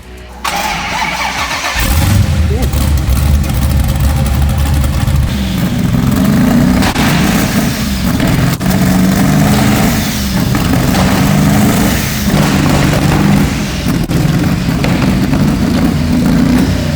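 Quad-turbo drift car with anti-lag cranks and fires up after a short quiet start, then revs loudly and roughly at close range, its engine roar holding steady with uneven pulses.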